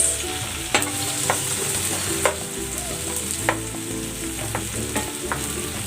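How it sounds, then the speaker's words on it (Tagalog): Onion and tomato sauté in a hot pan for ginisang sayote, a loud continuous sizzle with periodic scrapes and taps of a utensil stirring, close up and without talk. "Igisa na rin natin tong kamatis."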